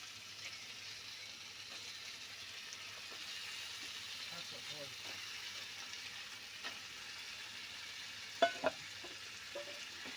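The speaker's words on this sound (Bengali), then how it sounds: "এবারে চিকেনটা দিয়ে আমরা ভালোভাবে নাড়াবো যাতে মশলাটা মোটামুটি চিকেনের সাথে ভালোভাবে মিশে যায়।" About a kilogram of curry-cut chicken pieces is stirred into spice masala in a pan, with a soft, steady sizzle and scraping stirs under a quiet background of voices.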